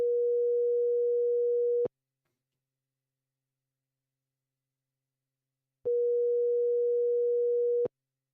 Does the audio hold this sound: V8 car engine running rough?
no